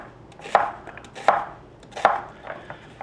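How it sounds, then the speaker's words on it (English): A knife cuts down through roast beef onto a cutting board in three distinct, evenly spaced thunks, close and fairly crisp, with a softer fourth tap near the end and no talking. "All I want to do is quarter and slice."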